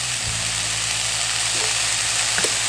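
Tomatoes and jalapenos hit a hot frying pan for tacos, a steady bright sizzle holding throughout at close range, with a couple of faint clinks from stirring.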